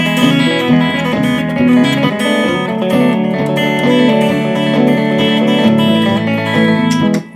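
A banjo plays a steady, bright, continuous roll on open and fretted strings, with rapid picked notes ringing together close up and no voice over them.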